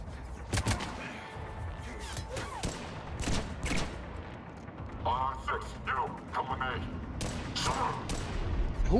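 Bursts of gunfire in Mass Effect 3 at a freezing abandoned Cerberus facility, sharp scattered shots and rattling volleys at moderate distance, interleaved with voices talking.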